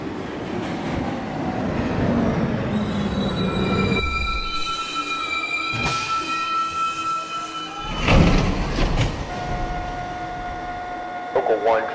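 An R62/R262 subway train on the Line 1 local at Financial District, wheels squealing loudly in long high-pitched whines over a rumbling rail roar, with several rising and falling squeals and sharp bursts near the end.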